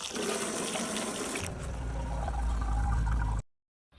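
Water gushes steadily and loudly into a spray can for mixing pesticide, the pouring tone deepening partway through before it cuts off abruptly.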